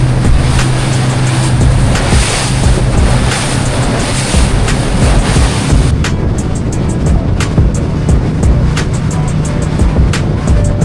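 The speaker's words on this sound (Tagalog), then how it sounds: "mas malakas ang alon na nabibigay sa amin" Loud, steady roar of a boat moving through choppy water in the Whitsundays, with waves crashing and wind buffeting the microphone throughout.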